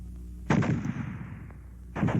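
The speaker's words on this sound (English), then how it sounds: "The fragmentation grenade." A fragmentation grenade going off in the Guns of War 2 video game: two loud, sharp blasts about a second and a half apart, the first followed by a long rumbling decay, with no talk.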